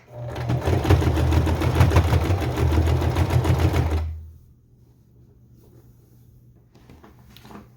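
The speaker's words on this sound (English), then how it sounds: "Okay, sew this together." A sewing machine stitching skirt fabric runs in a steady, rapid whirring rattle for about four seconds, then stops, leaving near quiet with faint room noise.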